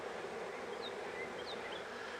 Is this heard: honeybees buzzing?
yes